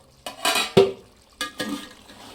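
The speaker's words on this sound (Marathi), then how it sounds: "मी झाकण उघडते आता." A metal lid lifted off a pot of chicken dum biryani, giving a close clatter and scrape followed by softer clinks of cookware, all in about two quick bursts with no talking.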